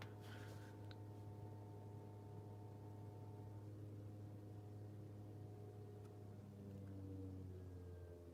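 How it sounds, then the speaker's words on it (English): A car's external cooling fan runs at a steady loud hum with a low drone, unchanging in tone throughout and heard alone. "like the fan on the outside of the car just kicked on really loud."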